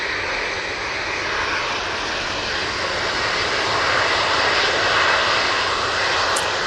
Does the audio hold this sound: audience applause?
no